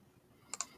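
Two sharp mouse clicks land close together, near and crisp, against a quiet room background.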